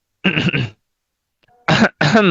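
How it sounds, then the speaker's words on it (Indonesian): Two short bursts of coughing or throat clearing up close, a brief pause, then two more harsh coughs. "Batuk kemenangan dulu."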